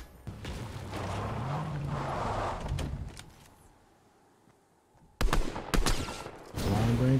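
Bursts of AUG rifle fire in a Fortnite Zero Build match: a rapid, sharp volley of close shots near the end after a quieter stretch, with someone talking over parts of it.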